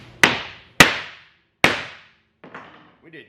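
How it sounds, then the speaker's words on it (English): A hammer strikes a piece of hard, super-dense wood three times, each tap sharp and ringing with a short fading tail, spaced unevenly, followed by a couple of faint rustles. "We're gonna take the hammer to it."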